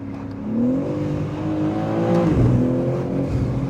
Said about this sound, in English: Let's give it a downshift under this little bridge here.